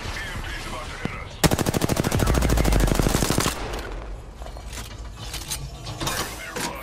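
Close, loud burst of rapid automatic gunfire in a shooter video game, a steady stream of shots lasting about two seconds before it breaks off into quieter game noise and scattered impacts.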